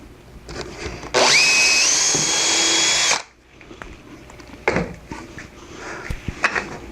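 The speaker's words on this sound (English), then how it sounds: "And drill my holes." A power drill bores holes in wood for a router table handle, a loud close whine lasting about two seconds that winds down, followed by quieter workshop clatter and handling noises.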